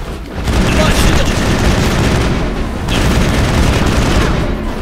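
Rapid gunfire and explosions in a sci-fi shooter video game fill the whole stretch at a dense, loud, steady level, a constant sustained barrage with no clear pauses.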